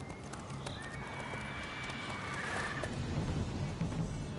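Roach the horse in The Witcher 3 whinnies with a drawn-out rising neigh while hooves clip-clop steadily at a trot over a busy game soundscape.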